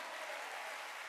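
A church congregation at a Sunday worship service bursts into steady, dense applause that fills the whole moment, with no voices standing out above the clapping.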